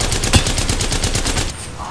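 Rapid automatic gunfire in a squad-based shooter video game, a fast even rhythm of loud close shots for about a second and a half, one heavier blast near the start, then fading.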